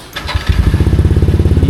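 A motorcycle engine cranks and catches, settling at once into a loud, close, rapidly pulsing idle.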